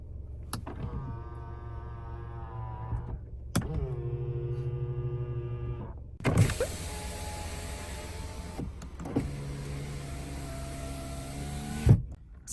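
Electric folding side mirrors on a used Renault Samsung SM5 Platinum with about 108,000 km whirring through several motor cycles, each a steady mechanical hum of a few seconds ending in a soft clunk, close and clear with no talk.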